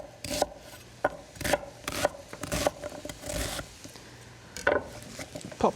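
An onion roughly diced on a chopping board for tomato soup, with a steady run of sharp knife chops striking the board at close range, separated by brief gaps of scraping and shuffling and no talk.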